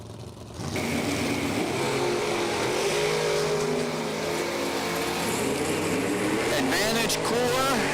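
A Mopar and an S10 launch side by side at a drag race, their engines roaring loud and steady across the strip while an announcer talks over the noise throughout.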